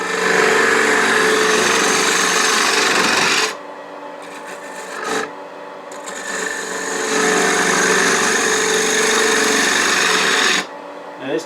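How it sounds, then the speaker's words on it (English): A 1/2 inch spindle gouge cuts a wood tenon on a spinning lathe, a loud, continuous rasping hiss that drops to a quieter hum when the tool lifts off, then resumes strongly before pausing again. "using a 1/2 inch spindle gouge, just going to make that tenon."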